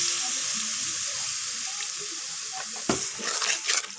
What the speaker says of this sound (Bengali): আস্তে এখন এই সোয়াবিনগুলো আমি দিয়ে দিচ্ছি, হালকা জল দিয়ে দিচ্ছি।